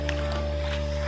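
A motorboat travels along the Krung Kuto river, its steady engine drone humming close and loud with water noise over the whole brief stretch.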